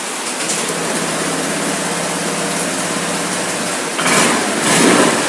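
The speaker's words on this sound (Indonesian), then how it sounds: "Kita hidupkan motornya" A Honda Vario 125/150 motor scooter engine idles with a steady, buzzing drone close by, then revs up briefly near the end.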